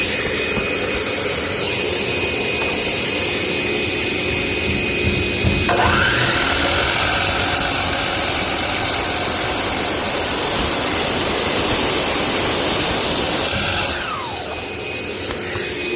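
A table saw in a woodworking shop, set to a 5-degree bevel, cuts a board while dust collection and other machines roar; the pitch shifts as the blade engages the wood, and the machines wind down near the end.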